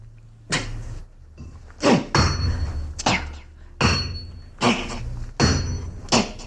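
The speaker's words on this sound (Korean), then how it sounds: "염탐꾼은 피지땀을 흘려가며 수시간을 내쳐 쇠말뚝을 박았습니다." Heavy iron hammer driving iron stakes as a sound effect, a series of about eight loud, close metallic strikes at uneven intervals, each with a ringing tail.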